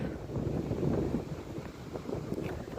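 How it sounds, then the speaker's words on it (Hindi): Strong mountain wind blowing on a roadside, a quiet gusty rumble buffeting the microphone in uneven swells, with no speech. "और अभी हवा चल रही है बहुत तेज़"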